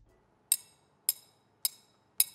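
A metal triangle struck four times in an even rhythm gives short, dry, clinking hits that die away quickly rather than ringing, close and fairly loud against near silence.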